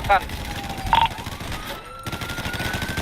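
Gunfire pops out of a GTA V roleplay shootout between police and gangsters: scattered shots sit under game sound and a rising tone, while someone talks over them.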